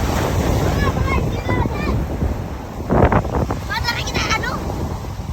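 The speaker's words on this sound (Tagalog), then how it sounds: "Napakalakas ng dagat dahil sa isang linggong ulan o magdadalawang linggo na." Strong sea waves surge and break on a shore after a week or more of heavy rain, a continuous loud rush with wind buffeting the microphone and a bigger crash midway, while people talk over it.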